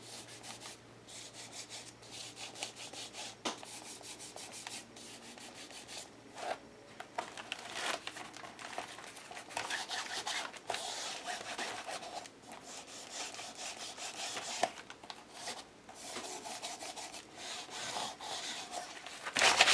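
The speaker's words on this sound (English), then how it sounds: "Grunge the inside of the book." Ink being rubbed onto the pages of a handmade book to grunge them, a soft continuous scratchy rubbing in uneven strokes, close and fairly quiet, with no talking.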